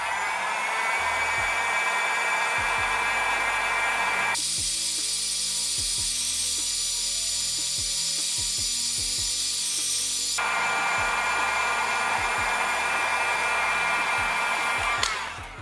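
Heat gun warming the back cover of an Honor 70 phone, a steady, loud airy blowing roar that runs the whole time, swelling brighter in the middle stretch with faint clicks and handling knocks beneath.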